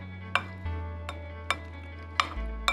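A spoon stirs tuna salad in a bowl, giving soft, irregular scrapes and several sharp clinks against the dish over a low steady hum, with no talk.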